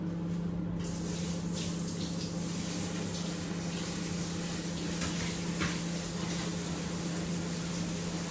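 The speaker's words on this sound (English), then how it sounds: "My hot water's going in." Hot water runs from a kitchen tap in a constant, fairly loud hissing stream that continues without a break, with no talk over it.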